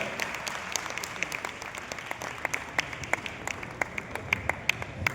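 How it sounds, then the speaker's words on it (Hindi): An audience applauds at the Magh Mela gathering in Prayagraj, a steady bed of clapping with sharper individual claps standing out, moderately loud and continuous without speech. "एक बार करकल ध्वनियों से अभिनंदन होना चाहिए इस पवित्र त्रिवेणी प्रांगण में।"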